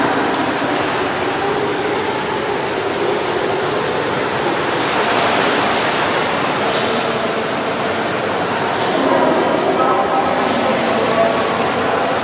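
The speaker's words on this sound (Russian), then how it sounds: "Вода здесь тоже крутится." Swirling, churning water in the Széchenyi thermal bath in Budapest, a steady broadband rush like a small waterfall or whirlpool current, continuous and fairly loud throughout with no pauses.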